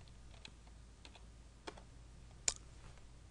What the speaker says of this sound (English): We'll type up here 0 divided by 0.